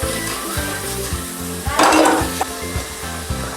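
Onions frying over a slow flame in a pan, close steady sizzle with rhythmic stirring and scraping knocks of a utensil against the pan.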